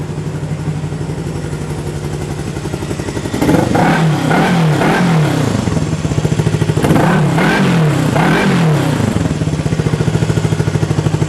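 A Honda CB360 motorcycle engine runs close by, idling with a steady throbbing beat and then blipped through two short bursts of revving before settling back to an even idle.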